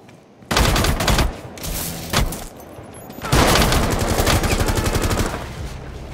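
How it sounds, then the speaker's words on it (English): Gunfire in the game Rainbow Six Siege: sharp opening shots, then a short pause, a burst, and a long stretch of loud, rapid automatic fire that tails off slightly toward the end. "He's just shooting me standing there."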